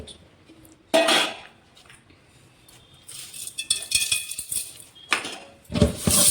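Pieces of fish being washed in a bowl for a Nellore-style fish curry, with clattering and splashing bursts of handling at the start and end and quieter rinsing sounds in between.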